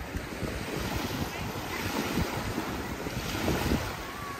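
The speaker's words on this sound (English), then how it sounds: "A little windy, but the sea's really calmed down today." Wind and sea waves aboard the Royal Caribbean cruise ship Freedom of the Seas, with gusty buffeting wind noise on the microphone over a continuous rush of water.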